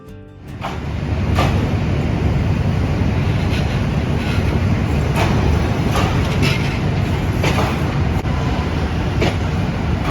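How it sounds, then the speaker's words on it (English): A train rumbles steadily nearby with a low, continuous roar and occasional metallic clanks, rail cars rolling in alongside a platform as it arrives at a station in Thailand. "So the train's here"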